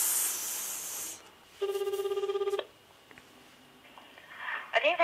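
A phone line rings out while someone calls a barber shop to book a haircut, giving a short burst of evenly pulsed electronic ringback tones lasting about a second, with quiet hiss before and faint rustling after.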